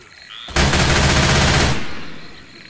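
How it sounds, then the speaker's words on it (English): A machine gun in Left 4 Dead 2 fires one loud, sustained burst of just over a second that then fades away. "Machine gun."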